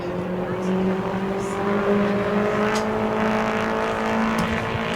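Four-cylinder modified race cars in qualifying at New Smyrna, a steady droning engine note that holds and slowly climbs in pitch, loud and close, with an announcer talking over it.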